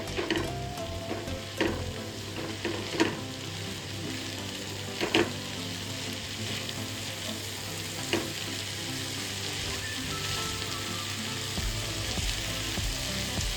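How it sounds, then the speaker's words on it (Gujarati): Mexican rice with chili flakes and Kashmiri red chili powder sizzles steadily in a pan while a spoon stirs it, scraping now and then against the metal, close and continuous with no talking. "બધું છે ને આપણે સરસ મિક્સ કરી લઈશું આ રીતે જ"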